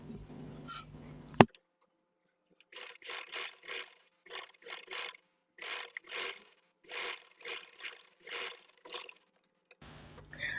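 A sewing machine stitching the neckline of a kameez, running in short, regular bursts of fast mechanical whirring separated by brief pauses, close and clear in an otherwise quiet room.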